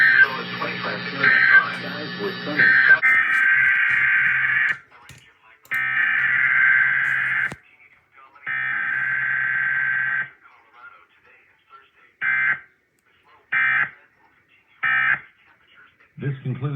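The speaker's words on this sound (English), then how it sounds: "Once again, the National Weather Service has just activated the public warning alarm tone." National Weather Service emergency alert warning tone from a broadcast test, a loud steady electronic tone in long blasts that break into shorter repeated beeps, with a brief muffled passage at the start.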